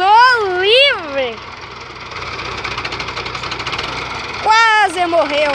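A small tractor engine revving hard during a harvest, a loud rough knocking drone, while voices shout and talk loudly over it at the start and end.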